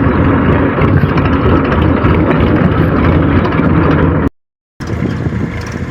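A farm vehicle's engine drives along a rough, rutted road, with a loud, continuous rumble and rattle close by, briefly cut to silence before resuming.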